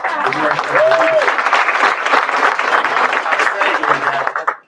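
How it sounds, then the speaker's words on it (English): A conference audience at the National Urban League event breaks into a loud round of applause, dense continuous clapping from a large crowd with a voice rising briefly over it. "So Cynthia, another round of applause."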